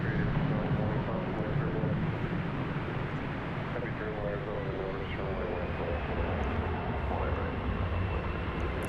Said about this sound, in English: here's a heavy aircraft.